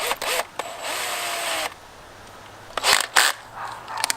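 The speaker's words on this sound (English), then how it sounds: "I hate drilling into kayaks" A power drill with a 9/64 bit whirs loudly for about a second and a half boring into a 2017 Hobie Outback kayak, then stops, followed by a couple of short, sharp bursts and handling clatter.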